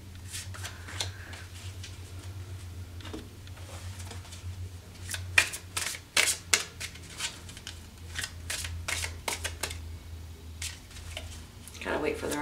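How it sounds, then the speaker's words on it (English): Tarot cards being shuffled and handled by hand, with soft riffling and flicking bursts that grow crisper and louder midway, over a low steady hum in a quiet room. "Gotta wait for the right cards to pop out that call my name"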